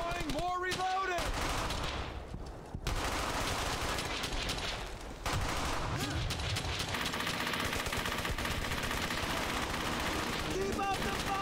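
Sustained automatic and rifle gunfire in the World War II game Brothers in Arms: Hell's Highway, rapid bursts and overlapping shots filling the scene with loud, continuous firing, with voices talking over it.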